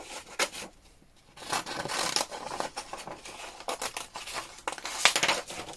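Scissors snip and rustle through paper up close while pages for a junk journal are cut, in irregular bursts of crisp cutting and crinkling with a short pause near the start.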